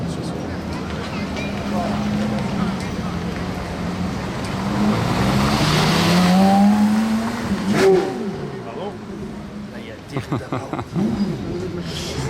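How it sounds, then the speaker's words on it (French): A Porsche Carrera GT supercar on a Monaco street rises from a steady engine drone into a loud, swelling rev that peaks and then fades, with sharper bursts near the end, while someone talks excitedly over it. "Waouh, Carrera GT. Oh, écoutez ça."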